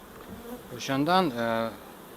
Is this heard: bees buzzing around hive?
yes